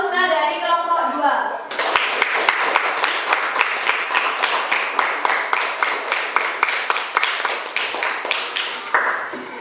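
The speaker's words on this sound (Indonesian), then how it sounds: "Tepuk tangan untuk Husna dari kelompok 2." Students in a classroom clap for a classmate after her group presentation, a brisk run of sharp, evenly spaced handclaps that follows a brief stretch of speech.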